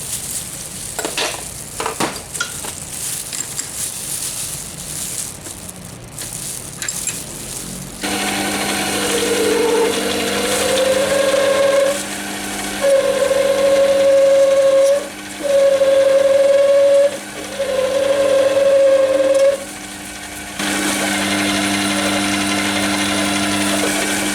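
A steady machine hum from a mini lathe boring a hole, with a cutting tone rising and falling in several repeated passes of a few seconds each, loud and close.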